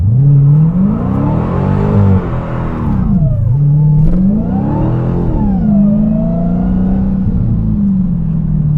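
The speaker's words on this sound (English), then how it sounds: "So to launch, press brake and quickly apply full throttle." A 2023 Dodge Challenger Hellcat Jailbreak launches at full throttle, its engine roaring loud and close. The revs climb, dip briefly and then surge again into a sustained, powerful wail.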